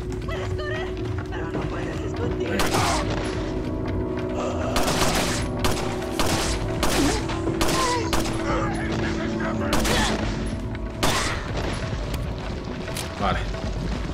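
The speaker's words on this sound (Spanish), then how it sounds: "Los disparos que oís por ahí es el propio Leon que está dándose de caña también con los ganados." Gunfire rings out in the video game Resident Evil 4 as a string of sharp, loud, irregular shots over a steady background drone, with someone talking over part of it.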